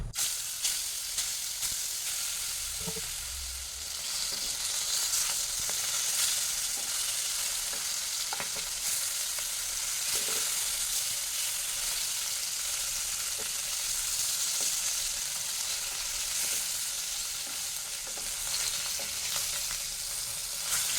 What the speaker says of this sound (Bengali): এই যে মাছটাকে আমি নুন হলুদ মাখিয়ে রেখেছি সেটা আমি এই তেলে দিয়ে একটু হালকা করে ভেজে নিচ্ছি